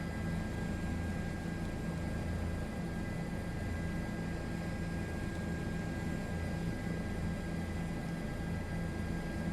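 A simulated Bell 407 helicopter in a flight simulator game, crossing Heathrow, gives a steady, dense engine and rotor drone that holds at an even level throughout.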